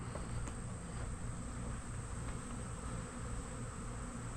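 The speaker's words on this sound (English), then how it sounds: "there is a steady stream of bees coming from the colonies" Honey bees streaming out from their colonies toward gallons of feed outdoors: a dense, steady buzzing hum from many insects in flight, constant and fairly close, with faint wind.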